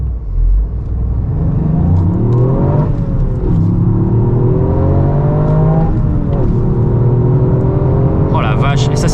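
Toyota GR Yaris engine pulling hard from 0 to 100 km/h, loud rising revs climbing through several gear changes with brief drops between them, heard from inside the car with people talking over it.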